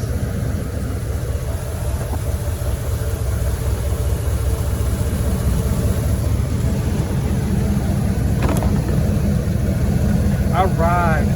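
A Ford Bullnose truck engine idles steadily at roughly 500 to 600 RPM, a continuous low rumble that carries through the whole stretch with a brief click near the end.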